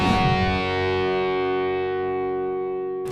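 A Fender Starcaster electric guitar rings out one distorted chord with chorus and echo, struck hard and then sustaining and slowly fading for about three seconds before cutting off, with no voices.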